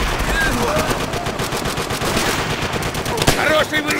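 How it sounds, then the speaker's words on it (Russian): Rapid machine gun fire in the World War II video game Call of Duty: World at War rattles continuously in dense bursts, loud and close, with a sharp louder crack near the end. "Пулемет на правом фланге!"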